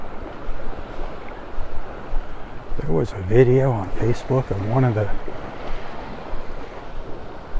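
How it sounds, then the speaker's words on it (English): Small waves lapping on the sandy shore at Vanderbilt Beach in North Naples, Florida at daybreak, a steady soft wash with light wind noise, while someone talks over it in the middle. "Those little waves lapping on the shore."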